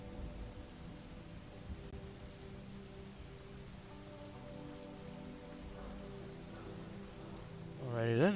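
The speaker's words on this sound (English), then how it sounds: "it is raining like a mofo out here." Heavy rain pours continuously in the video game Fallout 4, a dense steady hiss with a low rolling rumble of thunder that swells louder in the final moments.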